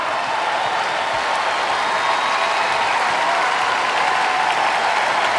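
A large crowd cheering and applauding at the CrossFit Games 2023 during a men's individual event, a steady wash of loud clapping and roaring that holds throughout.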